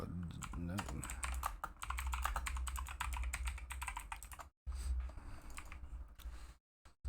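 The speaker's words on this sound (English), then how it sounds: "I was busy typing to my opponent" Rapid typing on a computer keyboard during an online card game match, a dense, close clatter of keystrokes with two brief pauses, faint voice fragments mixed in near the start.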